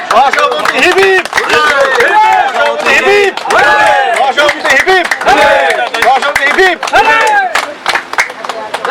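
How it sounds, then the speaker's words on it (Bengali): Crowd at a school-ground football tournament cheering and clapping loudly, a dense wall of overlapping shouts and applause that stays near and steady throughout with voices mixed in. "সবাই করতালি দিয়ে অভিনন্দন জানাবেন"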